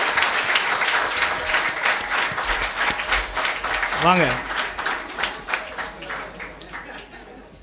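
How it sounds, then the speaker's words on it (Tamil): A gathering at a Tamil-language event breaks into loud, sustained clapping from many hands, which rises and falls in waves as a speaker talks over it and then slowly dies down. "கைதட்டு பலமாக இருக்க"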